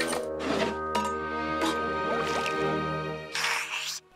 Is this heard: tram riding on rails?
no